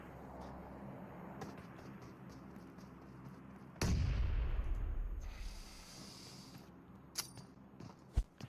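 A grenade blows up in the battle game PUBG Mobile on the Erangel map, a sudden heavy boom that rolls off and fades over a few seconds, then a few sharp pops after it.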